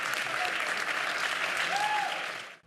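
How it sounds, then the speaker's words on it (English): A standing audience at a New York gala applauds in a dense, sustained wash of claps, loud and even throughout before fading out abruptly near the end. "Join me in standing and applauding this remarkable American."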